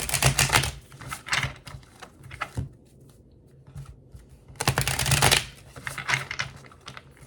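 Tarot cards being shuffled by hand in quick riffling bursts of crisp flutters and taps, with a quieter pause in the middle before another long burst, no talking.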